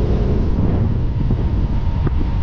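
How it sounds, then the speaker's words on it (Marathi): Strong wind buffets the microphone on Rajodi beach by a rough sea, a steady, loud, low roar lasting throughout with no voices. "असा भन्नाटाचा वारा सुटलेला आहे बीच वरती"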